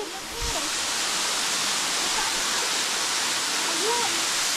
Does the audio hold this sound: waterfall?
yes